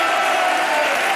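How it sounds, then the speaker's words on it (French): A short burst of television studio audience applause, steady dense clapping from a crowd. "de la sublime Virginie de Closade, que vous pouvez applaudir aussi."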